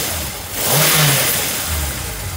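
1978 Honda CB750K motorcycle engine after a carburetor rebuild and sync, revved briefly from idle and dropping cleanly back, with a close mid-pitched swell and settle and no talk.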